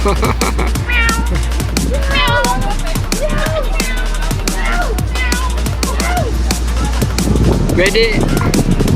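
A cat meows again and again, in short bright cries close by, during an outdoor boodle fight meal at a marine base, with people chattering and moving about around it.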